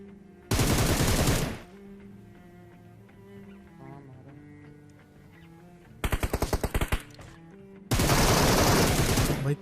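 Gunfire in the PUBG Mobile video game: loud automatic bursts at the start, a rapid string of separate shots, then another long burst, over quieter game background sounds.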